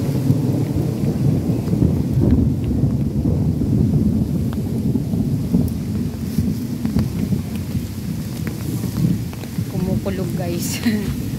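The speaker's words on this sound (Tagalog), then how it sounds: "Kulog guys" Thunder rolls over Kowloon Park in Hong Kong during a rainy walk, a broad low rumble that sustains for several seconds beneath steady wind and rain noise, with faint voices and brief higher sounds near the end.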